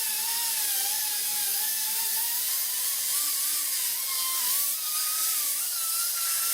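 Steady high-pitched whine of a polishing tool working the bolt carrier of a WASR AK47 rifle next to the gas piston, continuous and close with a slightly wavering pitch, no talking.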